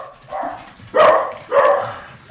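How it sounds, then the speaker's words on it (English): Dogs bark indoors in two loud, close woofs after a softer opening yelp, no talk over them. "Excuse my dogs, please."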